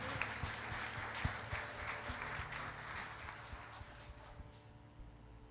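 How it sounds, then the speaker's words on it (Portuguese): A church congregation at a Wednesday revival service applauding for the Lord, a moderate, fairly steady patter of many hands clapping that gradually thins and fades toward the end. "pode bater uma salva de palmas para o nosso Senhor?"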